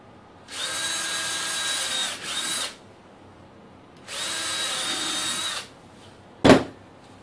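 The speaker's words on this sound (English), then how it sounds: "We'll go ahead and drill those." A power drill whirs loudly through two separate holes while mounting a gas saving device, each burst lasting a couple of seconds with a short stutter in the first, followed by a sharp knock.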